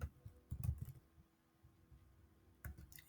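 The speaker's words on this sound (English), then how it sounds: "I can just type Ibadan" Quick bursts of keystrokes on a computer keyboard, a short cluster of clicks followed by a pause and another brief flurry, close and fairly quiet with no talking.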